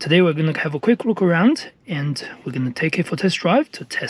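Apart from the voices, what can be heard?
None of the usual background noises is heard.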